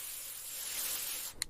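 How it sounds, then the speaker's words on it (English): Air freshener spray from an aerosol can, a soft, steady hiss lasting just over a second before a faint click, quiet and close. "I spray air freshener."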